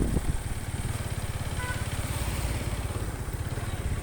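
A nearby motorcycle engine runs with a rapid, pulsing throb that holds fairly steady and loud throughout, a brief higher tone briefly riding over the rumble.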